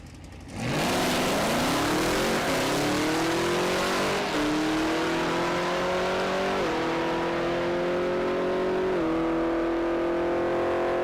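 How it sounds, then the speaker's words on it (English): Two drag cars, a sixth-generation Chevrolet Camaro and a Chevrolet El Camino, launch side by side at a Las Vegas drag strip, their engines roaring loud and close and climbing steadily through several gear changes with no talk. "Sarah Rust in the 6th Gen Camaro. And the El Camino over there in the right lane."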